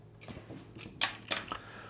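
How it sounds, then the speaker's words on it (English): A cat plays with something under a table, making a few quick light clatters and scrapes, two sharper rattling bursts close together near the middle, with no talking over them. "That noise you hear is my cat playing with something under the table."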